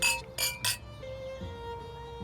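Wine glasses clink together in a toast at Barrel Oak Winery in Virginia: three quick, bright clinks close together, then a soft fading ring over a quiet room.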